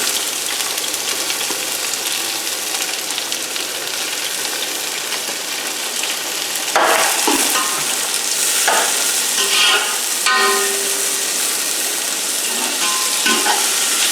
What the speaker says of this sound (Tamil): இப்போது வெங்காயத்தை நம்ம பொடியாக நறுக்கி வச்சுருக்கோம் இல்லையா, இந்த வெங்காயத்தை அதில் சேர்க்குறோம் எண்ணெயில்.